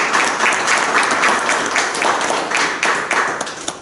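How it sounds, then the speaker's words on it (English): An audience at a city commissioner's town hall meeting gives a full round of applause, steady and fairly loud clapping with scattered individual claps standing out, no voices on top. "So if you all could just give them a round of applause"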